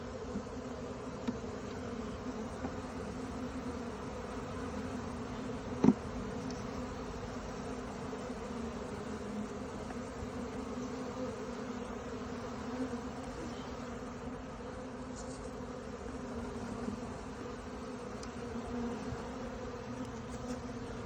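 Honeybees from a first swarm buzz steadily around an open hive while frames are handled and slid back into place, a continuous close hum with a few faint knocks of wood.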